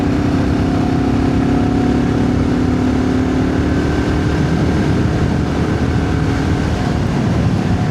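BSA 650 Scrambler motorcycle riding on a road, a loud continuous engine drone with a steady low hum and a slight rise in pitch as it accelerates, under heavy wind rush, no talk.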